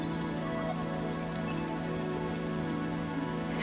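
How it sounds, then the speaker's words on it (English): Steady rain pours down onto a surface, a dense, even hiss of countless raindrops that holds constant and close throughout with no voices. "as the rain continues"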